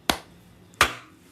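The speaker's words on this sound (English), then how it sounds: "let's do the clap again" Two sharp hand claps from podcast hosts syncing their recordings, close and crisp, about seven-tenths of a second apart with quiet room tone between.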